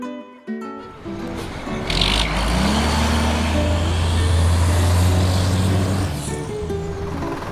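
A refrigerated milk tanker truck collecting from dairy farms rumbles close by with a loud, steady engine drone, a brief air-brake hiss near the start and a rising pitch as it pulls away.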